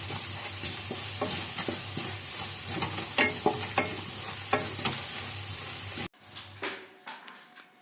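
Spices (coriander powder, sabzi masala and red chilli powder) being stirred in a hot pan with palak paneer, a steady loud sizzle with scraping stir strokes that cuts off abruptly, leaving fainter clinks and scrapes.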